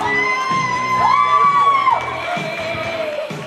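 Wedding guests at a celebration with a first dance and cake cutting cheer and shout, one rising whoop standing out over the lively crowd noise.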